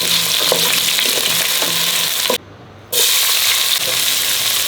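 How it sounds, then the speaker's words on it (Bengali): Onions sizzle vigorously in hot oil for a biryani, a loud, dense, continuous frying hiss close by that cuts out briefly in the middle before resuming, with no voices. "এখন দিয়ে দিচ্ছি আদা রসুন কাঁচা মরিচ, পেঁয়াজটা একটু ভাজা হয়ে গেছে"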